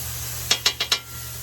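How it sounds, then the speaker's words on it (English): Mushrooms cooking on a hot griddle of a Masterbuilt Gravity Series 800 for Philly cheesesteaks: four quick scraping, sizzling strokes in a row over a steady background hum. "I like the smell of mushrooms cooking too."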